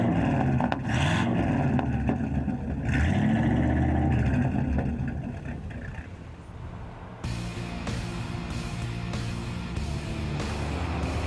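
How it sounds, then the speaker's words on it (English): A 1949 Cadillac's large engine cranks on its 6-volt starter, catches and rumbles loudly, revving before settling into a steadier running note. "When that 6-volt motor first starts up the engine, it's a joyous sound."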